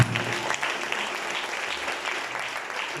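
Church congregation applauding Jesus during a French-language sermon, a dense, steady wash of crowd applause that fills the room throughout, with faint voices mixed in.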